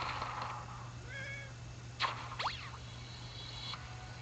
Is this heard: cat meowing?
yes